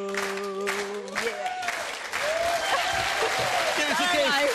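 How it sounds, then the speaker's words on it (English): A studio audience on the 2002 television game show Catchphrase breaks into applause as a sung performance ends, loud and sustained, with voices and cheering mixed through the clapping. "give her a round of applause"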